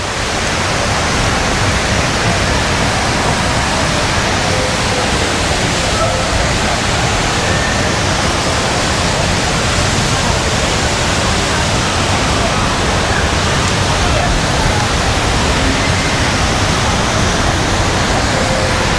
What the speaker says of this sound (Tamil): இந்த வியூவை எப்படி தண்ணி கொட்டுதுன்னு பார்க்குறீங்களே பாருங்கள்